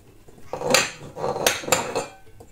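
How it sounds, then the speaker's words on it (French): Dry baking ingredients of cornflour, flour, salt and baking powder stirred in a mixing bowl for a marble cake, giving a few loud clattering scrapes and knocks of utensil against bowl in quick bursts. "je vais mélanger la maïzena, faites-le délicatement, pas comme moi, la maïzena et la farine, ainsi que le sel et la levure chimique"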